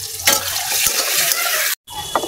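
Chopped onions and green chillies fry in a hot wok with a loud, steady sizzle and stirring scrapes, broken by a brief silent gap near the end before the frying resumes.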